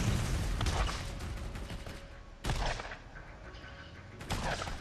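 Gunfire in the co-op shooter game Borderlands comes in three loud bursts spaced about two seconds apart, each with a ringing, echoing decay over a busy, noisy game background.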